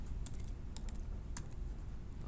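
Keys on a computer keyboard are pressed in a few sharp, quiet clicks spaced irregularly over a steady low hum, with no voices.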